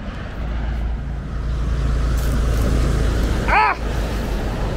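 Cars on a quiet Newport street with no one walking about, a steady low traffic rumble throughout and one vehicle sweeping past close by near the end.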